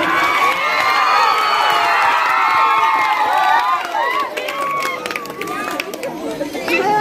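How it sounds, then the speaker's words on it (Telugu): A large crowd at an Independence Day celebration in Lingampally cheers and shouts together, with children's voices and lively chatter forming a loud, dense wash that eases slightly toward the end. "మాకు చప్పట్లు కొడదాం అందరం ఒకసారి, చప్పట్లు కొడదాం అందరం ఒకసారి"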